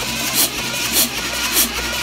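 A small engine with its spark plug removed and a compression tester fitted is cranked over, giving a steady mechanical whir with three rhythmic surges of effort about half a second apart.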